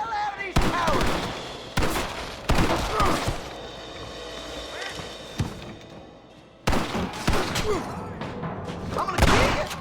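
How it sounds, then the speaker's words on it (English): Winchester rifle shots ring out in a Red Dead Redemption shootout, about half a dozen loud, sharp cracks at irregular intervals, each with a short echoing tail over a steady background of gunfight ambience. "Let's shoot the hell out of these cowards."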